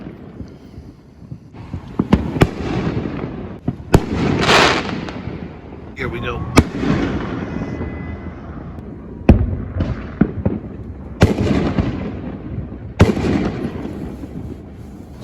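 Fireworks burst outdoors during a Fourth of July night, sharp booms and crackles landing irregularly about every second or two, some near and loud, with wind noise, brief talk and a dog's owner speaking between blasts.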